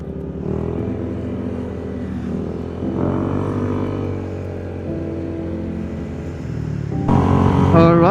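Five Honda ADV motorcycles ride together on the road, a steady mid-level engine drone with shifting revs and a louder burst of wind and engine noise near the end.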